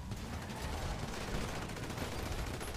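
Rapid, continuous automatic gunfire from Grand Theft Auto roleplay, a dense unbroken burst of shots that fills the short stretch at steady loudness.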